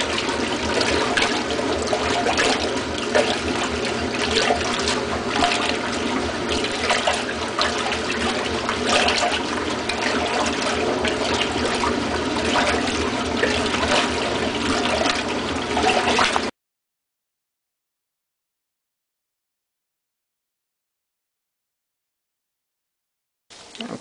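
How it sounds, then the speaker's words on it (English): A 1958 Dominion automatic washing machine agitating cold water with no clothes, a continuous churning, sloshing swirl that runs steadily for about sixteen seconds before cutting to silence. "This is basic agitation, no clothes in there, and just cold water for the time being"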